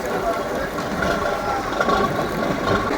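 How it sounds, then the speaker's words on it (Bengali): A fishing trawler's engine drones steadily as the boat backs slowly through the water, a dense, continuous rumble that holds even and close for the whole stretch. "আস্তে আস্তে ব্যাকে যাচ্ছে ট্রলারটা"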